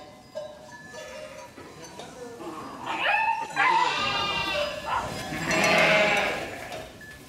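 Sheep bleat near sheepdog puppies on a farm, several loud, close wavering calls in the second half, with a faint bleat earlier over quiet background.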